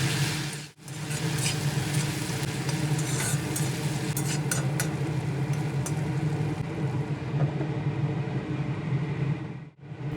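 Chopped onion and tomato with sugar being stirred in hot oil for a Bengali rohu fish curry, a steady scraping and soft sizzle running continuously at close range, with brief dips near the start and end.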